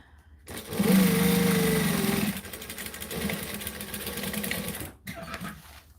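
Sewing machine stitching an order, a loud close motor whir that swells, holds steady for several seconds, then stops briefly before a short restart.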